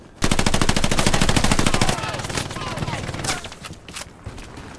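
Automatic gunfire in the World War II shooter Hell Let Loose, a rapid burst of evenly spaced loud shots for nearly two seconds, then scattered distant shots and echoes.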